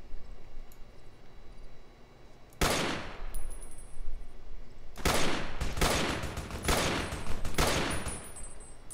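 Sniper rifle fire in Fallout: New Vegas: after a quiet stretch, a loud crack lands near the three-second mark, then a cluster of sharp, closely spaced shots follows from five to eight seconds, each with a brief ringing tail.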